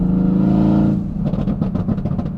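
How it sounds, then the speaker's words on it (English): An exotic car in race mode revs with a steady, loud engine drone, then lets off the throttle into a rapid string of sharp exhaust pops and crackles, close and without talk. "I'm gonna pop this bad boy into race mode and we'll give them some pops."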